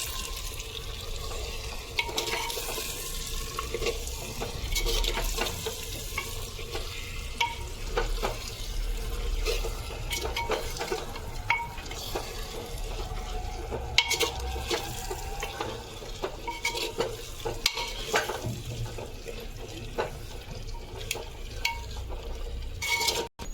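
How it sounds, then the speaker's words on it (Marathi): Chicken masala stirred in a clay pot, a soft steady sizzle with repeated scraping and clacking of the spoon against the pot, close and continuous. "आता आपण मिक्स करून घेऊया ह्याला"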